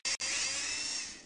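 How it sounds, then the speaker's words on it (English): A high-pitched whine from the drill in the Tonka Workshop video game making holes for solar panel supports: a brief burst, a short gap, then one steady whirring run. "Use your drill to make holes for the solar panel supports."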